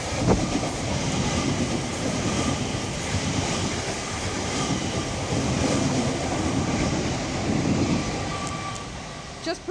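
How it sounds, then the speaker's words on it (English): A TfL Rail train passes at West Ealing on the Great Western Main Line, a loud, steady rolling rumble with rail clatter that fills about ten seconds, close by. "Here's a TfL rail train."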